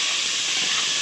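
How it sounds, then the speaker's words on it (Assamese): Hot oil hisses in a home kitchen while momo filling fries, a steady broad sizzle with no pauses and no talking. "তেলটো খিচিকি আহি আছে দেই।"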